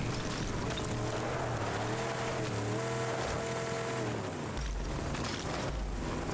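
A vehicle drives in the video game Rage 2, its engine droning steadily with rising and falling revs under a rushing, rough road noise, fairly faint and without talk.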